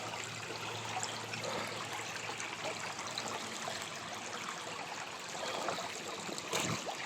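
Water from an underground stream gushes out of the ground amid clay mud, a steady broadband rush and trickle close by that holds constant throughout, with no talk.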